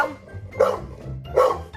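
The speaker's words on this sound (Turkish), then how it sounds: "havlama. Bak müşterileri korkutacaksın." A dog in the video game Minecraft gives two loud, close barks about a second apart, with no talking.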